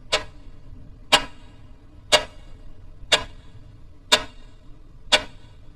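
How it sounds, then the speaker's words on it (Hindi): A clock's second hand ticks six times at an even one-second pace, each tick a sharp, close click over a low, quiet background in a horror story narration. "सिर्फ घड़ी के सेकंड की आवाज"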